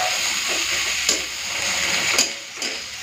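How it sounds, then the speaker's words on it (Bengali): Beetroot paste cooks in a pan with coriander as a spoon stirs through it, a soft continuous sizzle broken by a few scraping strokes. "একটুখানি মিশিয়ে নিই"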